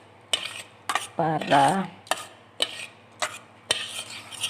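A utensil clinks and scrapes in a bowl while salt and sugar are stirred into puto maya batter, in sharp, separate strokes close by, with a brief spoken word partway through.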